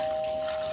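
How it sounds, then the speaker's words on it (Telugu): A leaking water tap runs steadily into a sink in a home, giving a short, even stream of water with a thin constant whine and no voices. "ఆ ట్యాప్ కారుతూనే ఉంది"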